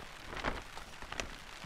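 Rain falls on a mountain cliff on Réunion island, heard as faint, steady patter with a few louder drops, one near the middle of the clip and one toward the end, and no voices.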